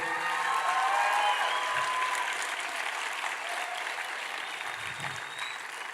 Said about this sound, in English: let's have a round of applause again for all the screenwriters, filmmakers, and their teams, their crews